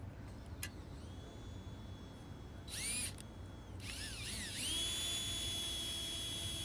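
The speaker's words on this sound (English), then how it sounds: "And then now I'm gonna drill out this side." An electric drill bores into the radiator core support of a 2007 Honda Pilot, a couple of short whining bursts with rising pitch followed by a longer steady run, fairly faint against background hum.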